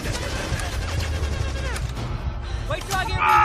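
Video game gunfire from Battlefield 1 crackles in rapid bursts under excited talking, dense and continuous over a few seconds with a louder burst near the end.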